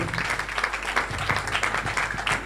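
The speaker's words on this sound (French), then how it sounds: "on peut l'applaudir" An audience at a public meeting applauding, dense steady clapping from many hands at moderate distance, sustained through the whole moment.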